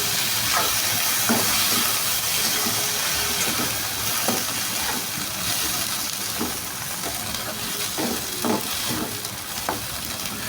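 Cluster beans (guar) frying in oil, a continuous close sizzle broken by repeated short scraping stirs at an uneven rhythm.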